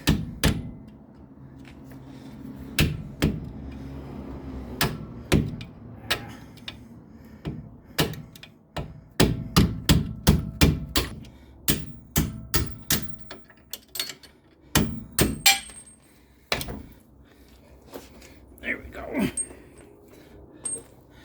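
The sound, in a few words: hammering a punch to drive out strut parts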